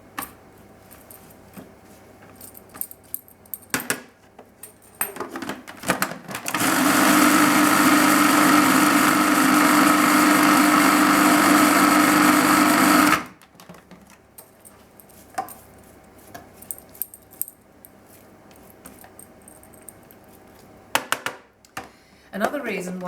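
A food processor runs loud and steady for about seven seconds while blending a dip with macadamia nut oil, with quieter clatter and handling noises before and after.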